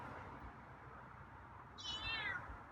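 A feral cat near a door gives a single short, fairly clear meow near the end, over a steady outdoor background hiss with no talk.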